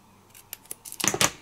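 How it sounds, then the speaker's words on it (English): Scissors snip through paper while a fortune teller craft is trimmed to size: a few light clicks, then two louder, closer cuts at the end, with no talking. "And I'm going to cut it right here."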